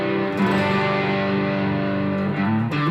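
Electric guitar played through a Boss Super Overdrive SD1 pedal with level and drive near the middle, giving sustained, gritty overdriven chords that ring loud and continuous for a few seconds.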